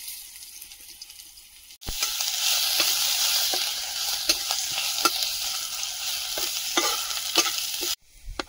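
Dry red chillies and crushed garlic hit hot oil in a wok with a sudden loud sizzle that keeps crackling steadily, with stirring scrapes, then cuts off abruptly near the end.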